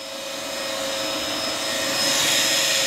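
Cooling fans on a Two Trees SK1 3D printer blow in a steady, loud whoosh that swells slightly toward the end, with no voices over it.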